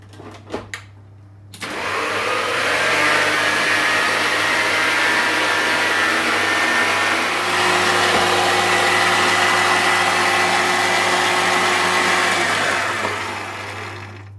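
Stand mixer fitted with a paddle attachment mixing gum paste, starting after a few clicks and running as a loud, steady motor whir with a constant hum, continuing unbroken for over ten seconds before easing slightly at the end.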